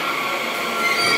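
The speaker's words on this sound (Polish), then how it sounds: "No, pora gonić pociąg." Train pulling into a station on a German regional rail journey at dusk, a steady loud rumble of rolling wagons with high wheel squeal running throughout, close by and without talk.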